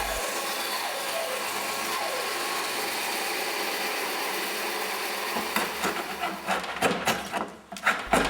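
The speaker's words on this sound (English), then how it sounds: "The bottom of the blade is then shaped." Willow cricket bat blade having its bottom shaped in a bat workshop, a continuous machine whir with steady broadband noise that turns choppier and uneven toward the end, with no talk.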